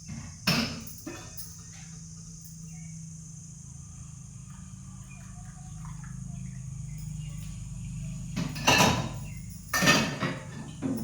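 Pots and dishes clatter in a home kitchen, with a sharp clank near the start and several louder metallic knocks toward the end over a quiet room hum.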